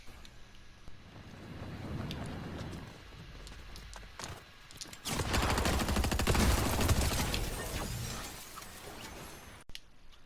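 Gunfire rings out in a Fortnite Battle Royale match: scattered distant shots at first, then a dense, loud volley of rapid fire crackling for several seconds before it cuts off.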